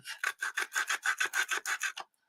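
Coarse sandpaper rubbed back and forth over a wooden piece to distress it, about a dozen quick, rhythmic rasping strokes close by, then stopping.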